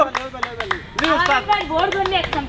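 Audience applause at a lively Bangladeshi entertainment fair, a crowd of hands clapping near and loud with sharp, uneven bursts, mixed with excited voices and chatter throughout.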